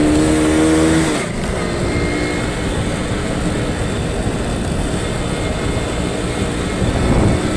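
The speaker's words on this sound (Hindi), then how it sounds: "हमें बाइक चलानी पड़ रही है थोड़ी तेज" A motorbike ridden fast on a road toward school, its engine roaring loudly and continuously with rushing wind noise, while a bus approaches from behind.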